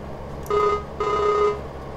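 Two evenly spaced electronic telephone rings, each about half a second and clearly audible, sound from a phone in the farming game Farming Simulator 19. No one speaks.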